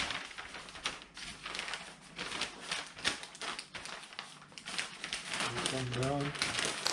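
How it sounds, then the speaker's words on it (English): Paper crinkles and crackles in bursts as food is wrapped tightly in it, close and fairly faint, with a voice speaking near the end. "Try and wrap it as tightly as you possibly can."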